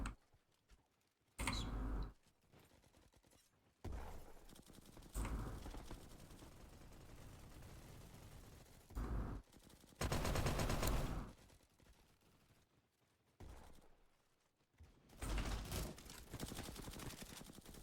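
Golden cyber AK-47 firing in the Roblox game Bad Business, several loud bursts of automatic gunfire spread across the stretch, separated by quieter gaps and lingering mechanical noise.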